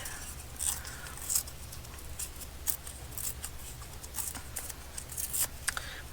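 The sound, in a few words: tearing paper for journal collage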